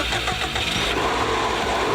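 A Subaru WRX's 2-litre twin-cam flat-four engine runs with a loud, steady, close mechanical roar that holds evenly for a couple of seconds.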